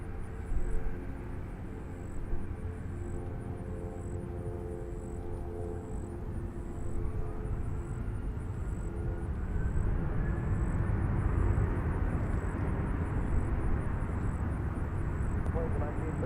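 A Southwest airliner taking off from runway 20 center at Nashville International Airport, its jet engines a steady broadband roar that builds gradually and holds loud toward the end, with radio chatter heard over it.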